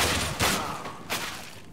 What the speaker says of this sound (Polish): Normalne strzały.